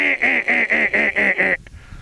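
A man imitates a duck by mouth as a hunting call, making six rapid, evenly spaced raspy quacks close up before stopping short.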